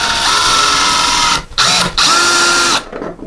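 An electric screwdriver drives a screw to mount a coat hook on a wall, giving a loud, close, steady motor whine that stops briefly twice before winding down.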